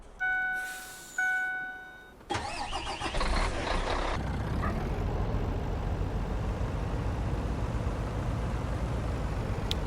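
A truck engine in the Farming Simulator 19 video game turns over and starts, then settles into a steady, close mid-pitched rumble that continues alone to the end.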